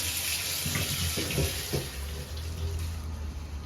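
Potatoes being washed under running tap water, a steady close splashing rush with a few brief knocks and handling sounds, fairly quiet and with no talking.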